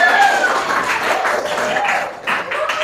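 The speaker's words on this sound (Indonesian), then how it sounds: "tepuk tangan buat kita semuanya" Applause from a group of children and their teacher in a classroom at the close of a religious education lesson, a dense continuous patter with some voices mixed in.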